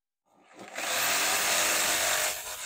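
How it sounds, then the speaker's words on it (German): A wooden board is sawn through by hand or with a saw, a steady dense rasping that starts after a brief silence and runs continuously and close for about two seconds. "Und das sägen wir uns mal ein Stück ab."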